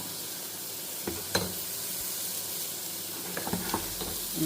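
Chickpeas (guggillu) fry in a pan with a steady, quiet sizzle, broken by a few soft clinks and stirring knocks; no one speaks.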